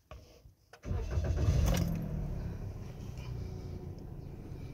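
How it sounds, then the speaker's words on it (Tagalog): A Toyota Raize E CVT automatic car engine cranks and starts after a quiet moment with key sounds, then settles into a steady, close idle. "isang pihit ulit. Para mag-start ang sasakyan"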